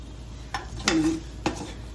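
A spoon stirs and mixes food in a pan up close, making three quick scraping clinks against the metal, the middle one longer and ringing.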